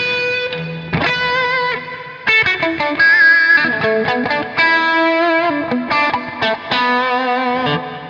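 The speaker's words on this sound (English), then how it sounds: "The next one I've got is a Rat, which is my favorite distortion pedal" Electric guitar through a Rat distortion pedal playing a lively riff of chords and single notes, gritty and saturated, loud and close with no voices.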